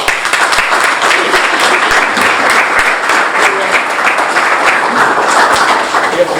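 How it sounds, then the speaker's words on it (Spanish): An outdoor audience at an agronomy field day on summer crop cultivars breaks into loud, sustained applause, many hands clapping densely and evenly throughout, with some voices faintly mixed in. "Aplausos"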